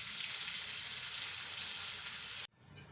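Chicken fries with golden onions in a pan for a Bihari keema dish, a steady loud hiss of sizzling oil that cuts off abruptly near the end, leaving quiet.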